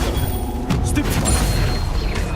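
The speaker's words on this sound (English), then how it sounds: "Stupefy!" A Stupefy spell is cast in Hogwarts Legacy as a burst of bright whooshing and crackling impacts over a constant low rumble of game noise, loud and close.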